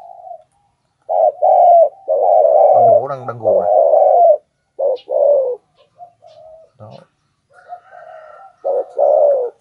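A spotted dove kept as a breeding decoy bird gives soft, low repeated coos close by, interleaved with someone speaking in Vietnamese.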